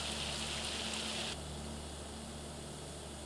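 Steady rain pours down in a farming video game during a hailstorm, a dense hiss of falling water that eases slightly partway through and then continues as a softer, even wash with no voices.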